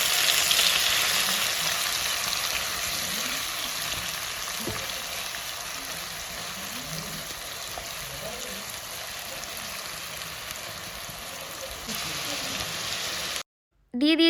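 Onion paste fries in hot oil with nigella seeds in a continuous close sizzle and crackle, with faint stirring and a brief cut to silence near the end.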